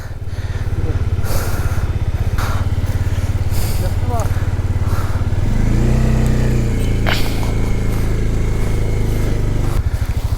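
A motorcycle engine runs on a snowy mountain road at Khardung La, a loud, steady close drone that swells in pitch and strength midway, with wind buffeting and people talking over it.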